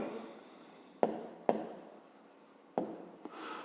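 Pen or chalk strokes write a math expression by hand, with soft scratchy rubbing broken by a few sharp taps as new marks start, close and quiet, with no talk over them.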